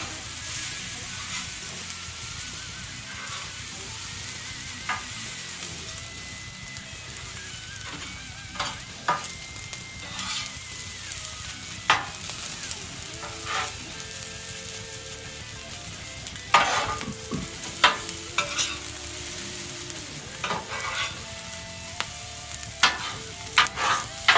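Rice frying in a pan, a steady crackling hiss with occasional scrapes and clinks of stirring.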